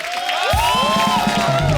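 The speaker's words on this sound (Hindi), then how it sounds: "एक बार जोरदार ताली हो जाए" A studio audience on The Kapil Sharma Show, an Indian TV comedy show, breaks into a short, loud burst of cheering, whooping and clapping.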